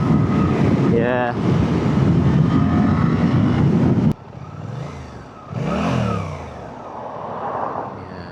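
Suzuki GSX-8T motorcycle engine revving loud and close with heavy wind rush, a rising whine near the start, then a lower, rougher engine note with a second swell of revs; no one speaks over it.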